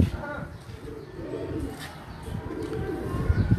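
Pigeons coo on a rooftop loft of breeder birds in Kot Sagg, low rolling coos repeating close by over light background noise, while someone talks over them.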